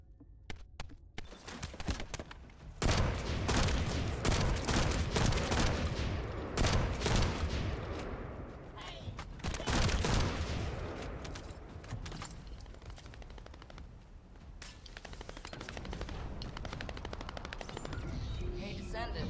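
SMG gunfire in The First Descendant, rapid bursts of automatic shots in several volleys with pauses, loud and close amid game effects, with a voice talking at points.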